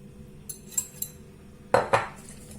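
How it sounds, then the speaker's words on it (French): A utensil stirs egg into zucchini tempura batter in a bowl, giving a few light scattered clinks followed by two louder knocks against the bowl, close by and quiet, with no talking. "Je le mélange également"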